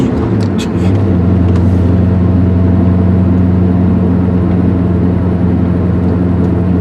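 A Porsche 944 fitted with an LS V8 on a newly installed carburetor holds a loud, steady engine roar while spinning both tires, a close, sustained drone with no pauses.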